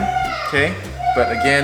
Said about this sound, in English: Sorry about the kids. They're having a lot of fun up there.